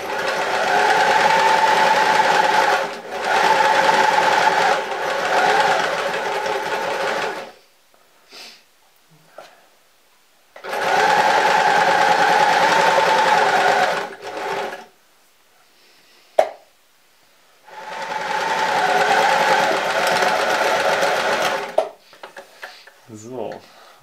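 A sewing machine stitches thick fabric while a hand puppet is made, running in three long steady whirring bursts with quiet pauses and small handling clicks between them.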